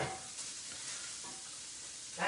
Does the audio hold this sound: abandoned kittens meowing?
no